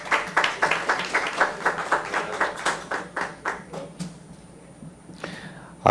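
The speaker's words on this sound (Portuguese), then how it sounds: "Uma salva de palmas." An audience at a panel session on workplace internships applauds with a brisk run of distinct, rhythmic hand claps. The clapping fades out after about four seconds, leaving quiet room tone and a faint stray sound.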